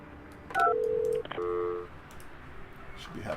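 Telephone dialing tones in the building-management game Project Highrise: a short run of clear electronic beeps at moderate level, with a brief pause between groups of tones, set against a quiet background.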